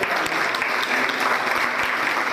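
Loud, sustained applause from an audience at a Jain community gathering fills the whole stretch, dense and steady clapping with no pause and no other sound on top.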